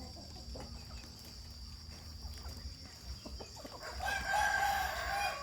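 A Burmese fighting rooster lets out a single loud, drawn-out crow near the end, after a few seconds of quiet farmyard ambience.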